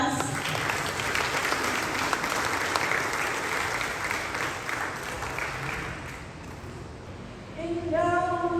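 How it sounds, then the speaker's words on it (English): Sustained audience applause from a crowd, dense and steady clapping that fills the clip, briefly thinning near the end before a voice begins singing over it. "Give them a round of applause."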